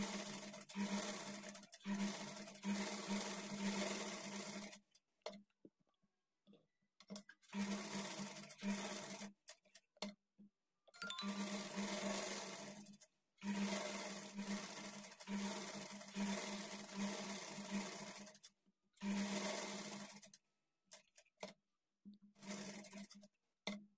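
A sewing machine stitches a blouse lining in repeated bursts of fast, whirring needle action, each run lasting a few seconds and separated by short silent pauses.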